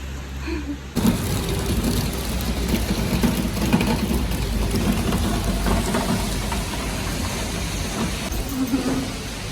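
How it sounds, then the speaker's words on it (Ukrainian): Summer rain falling on a street, a dense continuous patter that starts abruptly and holds steady and fairly loud, with a faint engine-like rumble beneath. "Літній дощ. Всі від дощу ховаються, пес теж."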